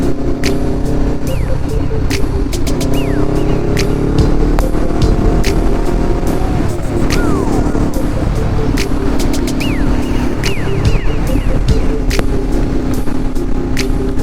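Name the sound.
riding a 2021 Honda CBR 500R motorcycle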